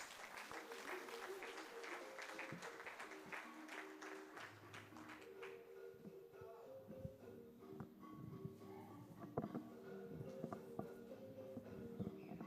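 Applause from an audience at a district well-done celebration function, steady dense clapping running through the whole stretch, with some background voices and tonal sounds mixed in.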